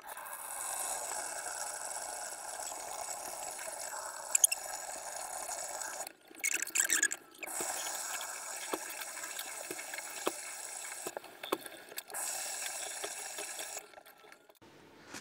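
Water runs and splashes steadily over model railway ballast being washed, with small drips and trickles, briefly stopping a couple of times before flowing on and fading toward the end.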